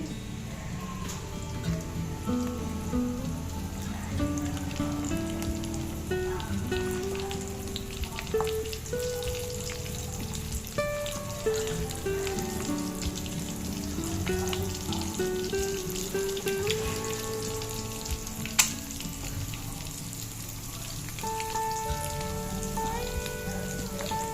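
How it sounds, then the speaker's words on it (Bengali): Potato and egg rolls fry in hot oil over medium heat, a steady crackling sizzle like rain that runs throughout beneath background music. "এখন আমি একটা একটা করে রোলগুলো দিয়ে দিচ্ছি"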